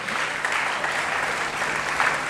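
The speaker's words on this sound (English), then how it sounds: "Let's give a big round of applause to the beautiful message, beautiful motivation that you have given" At a school orientation programme, an audience claps in a brief, steady burst of dense applause without any talking over it.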